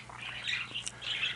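Pet birds roaming a room give sharp squawks and chirps, several short calls scattered through the moment, fairly close, over a low steady hum.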